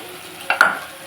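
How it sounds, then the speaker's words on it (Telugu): Crabs drop into hot oil for a curry fry, two quick splashy bursts followed by a short hiss of sizzling that fades. "ఇప్పుడు మనం పీతలు ఇందులో వేసేసుకుందాం."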